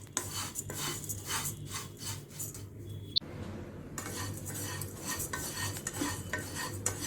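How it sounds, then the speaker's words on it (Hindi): Flattened rice (poha) dry-roasts in a kadai over a low flame with no oil, with a spatula scraping and rubbing against the metal in repeated close strokes and one sharp clink midway. "धीमी आंच पे इस चूड़ा को भूनना है, सूखा ही भूनना है।"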